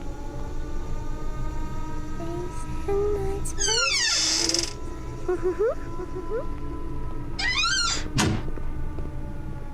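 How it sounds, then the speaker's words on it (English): Cabinet doors opened by a monster in a horror video game, a run of creaks, thunks and squeaky hinge sweeps at moderate distance, with short pauses between them. "She's opening all the cabinets."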